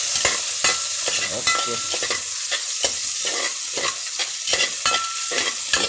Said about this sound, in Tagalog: Halo-haloin guys hanggang maging golden brown